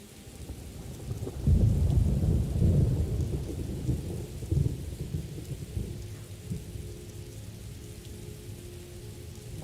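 Rain and a rumble of thunder in the video game Morrowind, with a steady rain hiss throughout and a low rolling thunder swell early on, heard alone without talk.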